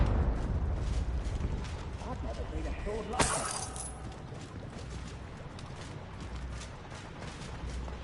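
A Confringo blasting spell in Hogwarts Legacy bursts with one sharp crack and a bright shattering flare at mid-clip, over a steady rumbling game background while a voice talks.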